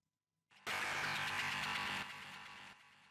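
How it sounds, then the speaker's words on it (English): A dry guitar sample with no effects, in a house-music production: one dense, bright strummed chord that starts abruptly after a short silence, rings loudly for about two seconds, then thins and cuts off. "I came across this guitar sample."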